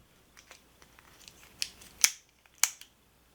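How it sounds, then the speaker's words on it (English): Handles of a small Bibury keychain multitool with pliers and scissors unfold in a few sharp, close metallic clicks, three loudest near the end, against quiet background. "with the main tools you unfold the handles like so."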